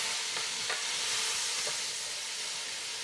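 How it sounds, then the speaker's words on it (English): Onions and spices fry in a pot for andouille sausage and collard greens soup, giving a steady, close sizzle broken by a few soft scrapes of stirring. "just mix it all together"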